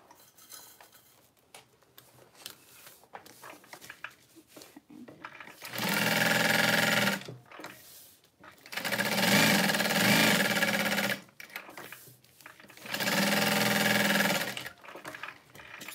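A sewing machine stitches a small fabric bag in three sustained runs of about two to three seconds each, separated by quiet pauses, with faint rustling in between and no talk.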